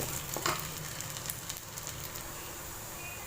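Diced potatoes for an aloo baigan curry stir-fry alone in a pan, giving a steady, close sizzle with faint scraping and stirring and no voices.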